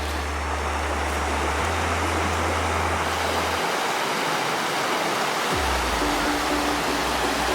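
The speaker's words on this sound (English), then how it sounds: "Check out the beautiful waterfall that we get to camp next to." Loud, steady rushing of a waterfall fills the whole stretch, a dense unbroken roar close at hand.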